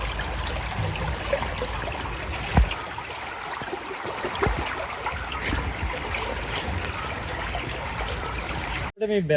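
Water from a mountain stream in Sri Lanka rushes and trickles steadily into a container close by, a continuous gurgling flow with some talk around it.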